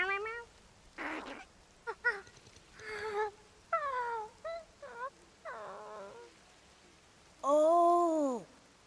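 Cartoonish cat-like creature meowing in the video game Infinity Nikki, a string of short varied meows followed by one long, louder drawn-out meow, clear and close.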